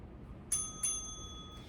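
A small bell dings twice in quick succession with clear ringing tones that linger faintly, marking the next pose in a yoga session over a quiet room.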